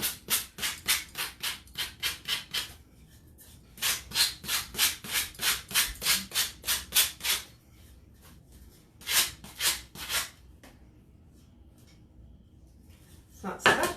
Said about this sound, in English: I'm gonna see if I can sand this a little bit